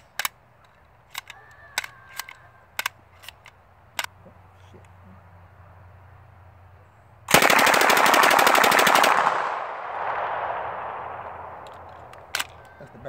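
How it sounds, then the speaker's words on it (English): An Uzi submachine gun fires one loud, rapid burst of about two seconds after a string of scattered sharp clicks and handling knocks, and the burst is followed by a slowly fading echo and a few later clicks. "Got the Uzi"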